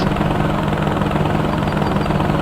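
A helicopter in Homebrew Vehicle Sandbox flies close by, its rotor and engine giving a loud, dense, continuous thrum with a steady low hum and fast chopping pulse, with no voices.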